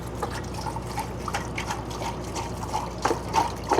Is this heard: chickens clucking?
no